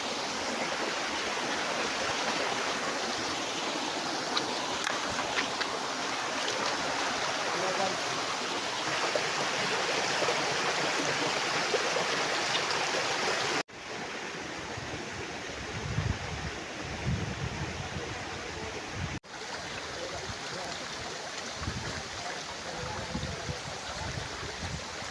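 River stream flowing near Puerto Princesa, Palawan, a continuous loud broadband rush of water that drops to a slightly quieter level partway through, with faint sounds over it.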